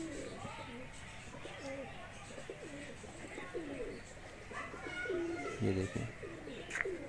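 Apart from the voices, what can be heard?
Teddy and Kamager pigeons cooing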